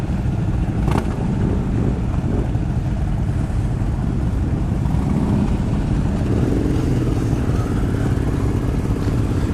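A group of Indian motorcycles rides out together on an end-of-season club run, engines rumbling loud and close with a continuous blended roar and wind noise throughout.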